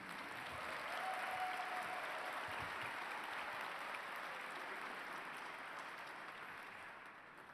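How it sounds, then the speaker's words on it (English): A banquet-hall audience at a broadcasting awards luncheon gives sustained applause for an acceptance speech. Dense, even clapping holds steady throughout and fades slightly at the end, with no talking. "wait for the audience applause to die down"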